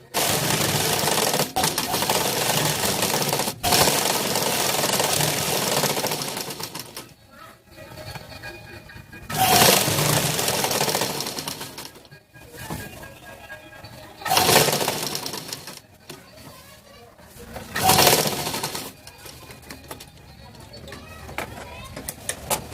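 A sewing machine stitches the side seam of Patiala pants in bursts of fast rattling clatter, loud and close, separated by pauses where a voice talks.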